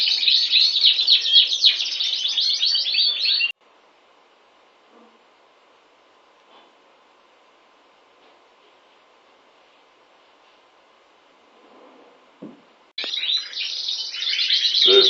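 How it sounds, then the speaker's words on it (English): A Border canary cock that placed third at the South African National Championships in Pretoria sings loud, close, rapid trilling phrases, falling silent for several seconds before bursting into song again. "This bird got 3rd prize South African National Championships in Pretoria, bred by Wolmarans"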